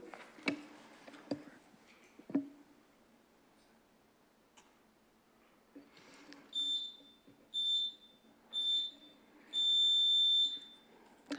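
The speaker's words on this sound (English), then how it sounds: "And there's going to be some beeps, and we'll wait for the beeps to stop" Council chamber microphone system gives a series of electronic beeps, four short tones then a longer one, fairly clear over a quiet room with a few faint knocks and shuffles before them.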